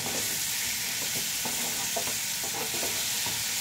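Masala is sautéed over a high flame for a vegetarian curry, a constant loud sizzle with scattered soft scrapes from stirring, close up and without speech.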